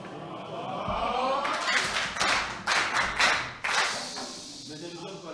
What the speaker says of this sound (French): Je veux qu'on applaudisse pour lui